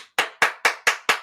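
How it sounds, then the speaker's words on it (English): Five sharp hand claps in a steady, even rhythm, close and crisp, each one ringing out briefly with no talk underneath. "I gotta clap it up for that, man."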